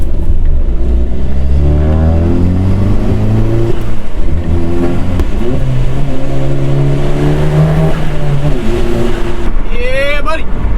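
A Stage 2 tuned VW Mk7 Golf GTI engine revs on a downshift, loud and close from inside the car, its pitch climbing and falling in sweeps, while people talk over it.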